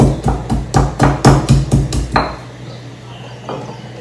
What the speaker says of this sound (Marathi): लसूण आहे ना जस्ट ठेचून घ्यायचं आहे